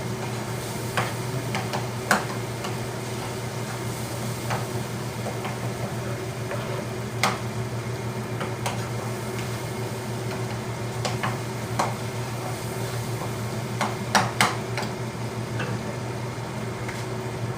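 Steady low sizzling from a hot pan as spices are tempered for an eggplant dish, with a constant hum underneath and scattered sharp ticks and pops throughout.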